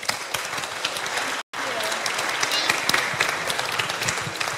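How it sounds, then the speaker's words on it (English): A church congregation claps at a Vacation Bible School celebration Sunday, loud dense applause filling the room, briefly cut off by a short gap, then resuming just as strongly to the end. "So clap to you guys."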